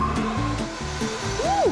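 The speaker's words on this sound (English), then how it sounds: "Ooh, listen to the sound of the pump." A water slide pump at a water park switching on, a loud steady whirring drone with a rising whine toward the end, close and continuous.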